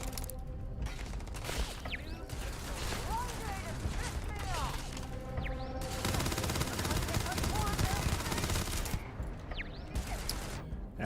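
Gunfire in the video game Starfield, sporadic shots and mechanical weapon clatter mixed into a dense, busy game soundscape at moderate loudness.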